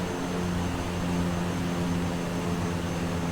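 Steady, continuous airplane engine drone as a small aircraft approaches to land in Microsoft Flight Simulator 2020 in Kenya, a level hum with strong low harmonics and no speech over it.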